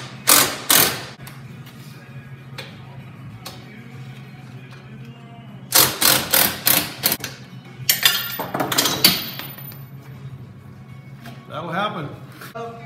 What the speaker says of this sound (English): So I got to loosen these two bolts.